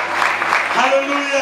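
A church congregation at a Spanish-language service claps in a dense, loud burst while a voice calls out over the applause.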